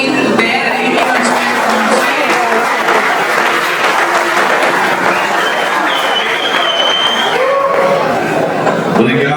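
Audience at a church evening lecture applauds steadily and loudly for a pastor taking the stage, the dense clapping mixed with crowd murmur and light chatter throughout.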